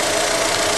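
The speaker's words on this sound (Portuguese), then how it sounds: "o motor é muito silencioso," A Fiat Palio Fire Economy 1.0 Flex four-door from 2013 runs with a steady, even engine hum and a faint tonal whine, quiet and continuous with no talk over it.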